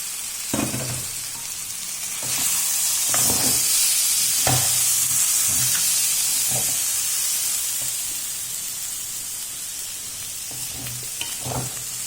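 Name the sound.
stirring green beans in a pan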